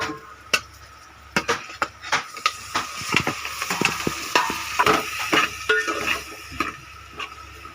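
Close, continuous stirring in a frying pan, with quick scrapes and clinks of a spoon against the metal repeating steadily over a soft sizzle of oil, and no voices.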